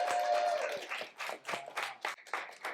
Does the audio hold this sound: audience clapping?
yes